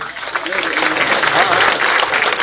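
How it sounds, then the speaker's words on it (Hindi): Applause rises from the crowd at an outdoor public rally in a village, a brief, loud burst of mixed clapping lasting a couple of seconds. "एक बार जोरदार तालियां हो जाएं।"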